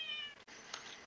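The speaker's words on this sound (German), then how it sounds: "Die Katze." A house cat meows, a short high-pitched call followed by a second, fainter one, heard fairly close and alone in an otherwise quiet room.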